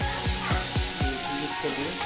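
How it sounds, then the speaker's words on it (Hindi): Tomatoes stirred into a sizzling onion curry in a pan, with a steady frying hiss and a regular series of scraping strokes, about four per second at first, close and fairly loud. "टमाटर को इसमें मिक्स कर देंगे।"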